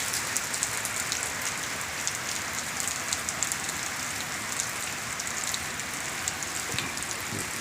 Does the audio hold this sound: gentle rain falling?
yes